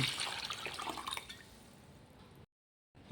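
Water is poured over half a kilo of sardines to soak them, giving a splashing trickle for about a second that fades to a quiet drip and then silence, with no one talking.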